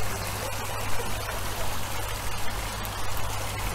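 Water pouring from two water-blade spillways into a garden pond with Japanese stepping stones, a steady, close, full splashing rush that runs continuously without speech.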